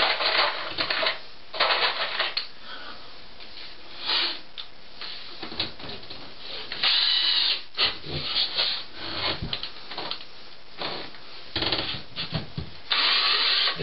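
Screws driven into wall board beside a tub in short, repeated bursts of driver whir and grinding, loud and close, separated by brief pauses and handling clatter, with no talking.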